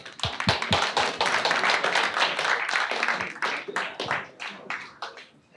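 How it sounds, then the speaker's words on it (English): A small audience at a tech meetup gives a speaker scattered, uneven clapping, individual claps clearly separate and close, fading toward the end, with a voice faintly underneath. "Give a big applause to Pather."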